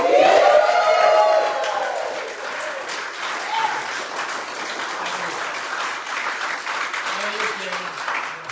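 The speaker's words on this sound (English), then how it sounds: "can I get a big round of applause for the team at love?" Office team applause and cheering at a sales gathering, steady clapping with scattered shouts that follows someone speaking loudly at the start.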